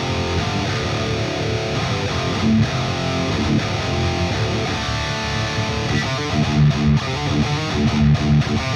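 An electric guitar plays through a Quad Cortex amp patch, a loud distorted tone with strummed chords and picked notes over a continuous dense sound, no voices.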